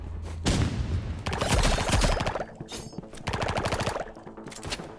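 Gunfire in the Roblox Rivals video game, with a sniper rifle among the weapons: loud, dense bursts of shots in several clusters across the clip, with sharp cracks and rapid repeated fire, no talking.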